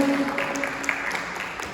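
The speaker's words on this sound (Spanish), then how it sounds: "Los saludamos con un fuerte aplauso desde Palenque." An audience in Palenque claps together in a steady, even wash of applause that fills the short moment.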